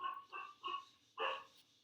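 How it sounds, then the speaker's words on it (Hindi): A pet dog barking faintly at a distance, four short barks in an uneven rhythm with no talk over them. "ये हमारा वो कुत्ता भौंक रहा है,"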